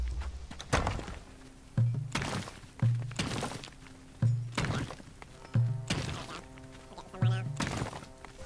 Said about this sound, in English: Now I can probably destroy this back wall here